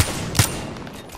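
Gunfire in a video game, a single sharp shot near the middle of a short stretch, fairly faint, over a low background rumble and without speech.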